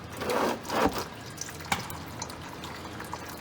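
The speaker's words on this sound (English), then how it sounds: "Hey, it's starting to drip." Transmission fluid drips and trickles steadily close by from a 1965 Ford Mustang, with a couple of louder splashy bursts early on before settling into a quieter, continuous drain.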